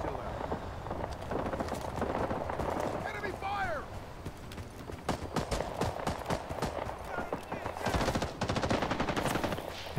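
Rapid bursts of automatic gunfire crackle through a Rising Storm 2 online battle, dense and continuous with sharper volleys near the end, while players' voices call out over the shooting.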